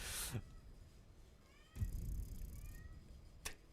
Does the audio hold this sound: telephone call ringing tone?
no